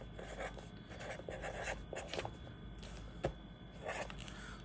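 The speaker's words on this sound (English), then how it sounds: "So I'll write that here." Pen or marker writing on a surface in short bursts of scratchy strokes, fairly quiet, with faint room noise and no talking.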